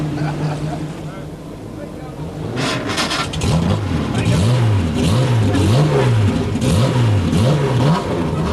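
A classic Ecurie Ecosse Jaguar racing car engine cranks and catches, then revs repeatedly in loud rising and falling swells, close and raw, with a voice speaking over the engine.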